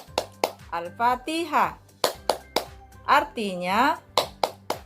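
Children in an Indonesian first-grade classroom clap in a steady rhythm while chanting the Al-Fatihah clapping song aloud with their teacher, the sharp claps close and evenly spaced under the voices.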